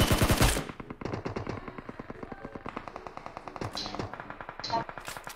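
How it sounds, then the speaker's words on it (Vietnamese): Rapid automatic gunfire from a PUBG Mobile match rattles out in a long, steady burst of evenly spaced, loud shots, with a few brief sharper sounds layered on top. "Giờ các bạn bắn rôm thế."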